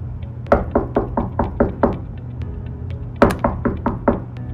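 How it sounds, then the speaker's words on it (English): Knuckles rap on a cruise ship cabin door in two quick bursts of sharp, close knocks, about six in the first run and five in the second, over a low steady hum. "knock the door 3 times"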